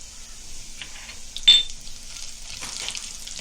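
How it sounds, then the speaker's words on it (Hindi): Cumin and mustard seeds hitting hot oil with a faint crackle, a sharp clink of metal near the middle and a short burst of sizzling toward the end, fairly quiet with no voices. "अभी जीरा राई तड़कने लगा ना"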